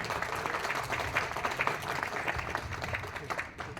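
Audience applause at an organ donation camp in Shyam Vihar, New Delhi, a moderate continuous patter of many hands clapping with a voice faintly underneath, easing off at the end.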